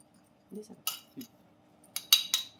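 Metal spoon tossing peanuts with spice masala in a pot, giving soft, scattered clinks and brief metallic rattles against the vessel, close and quiet with no talking.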